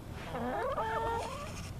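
White Leghorn hens, one of them bleeding, give a short run of warbling, rising-and-falling clucks and calls, fairly close and clear over quiet background noise.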